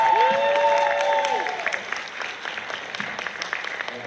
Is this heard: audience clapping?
yes